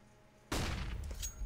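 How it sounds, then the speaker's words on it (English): Machine gun fire in Counter-Strike bursts in suddenly after a quiet moment, a loud, close rattle of rapid shots that runs to the end. "there's his machine gun getting Zeus's head"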